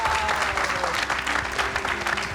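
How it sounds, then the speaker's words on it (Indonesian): Audience applause at a gathering, loud dense clapping throughout with a voice briefly over it. "semua tepuk tangan"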